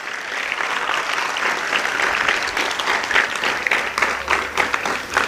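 An audience at a motivational Marathi lecture breaks into loud, sustained applause, a dense wash of clapping hands that carries steadily without pause from start to finish.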